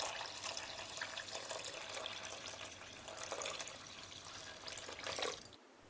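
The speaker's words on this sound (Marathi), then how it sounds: "उडदाची डाळ मुगाची डाळ आणि तांदूळ ह्या तिन्ही वस्तू आपल्याला स्वच्छ अशा पाण्याने धुवायचे आहेत" Running water splashes steadily as urad dal, moong dal and rice are rinsed by hand, a continuous wet swishing that stops abruptly near the end.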